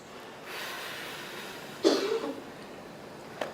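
A deep breath drawn during a seated chair exercise class, heard as a loud breathy inhale followed by a softer exhale, close and alone, with a faint click at the end.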